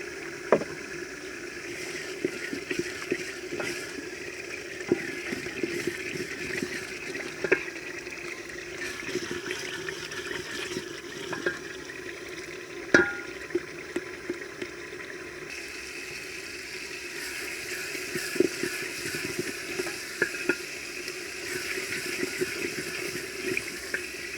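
Water pours steadily into a pot of black pepper soup while it cooks, a long, even splashing wash with scattered small clinks and knocks and no talking.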